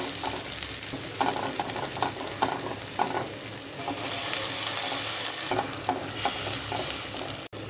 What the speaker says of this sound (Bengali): এই জন্য মাছগুলোকে ভেজে নিচ্ছি।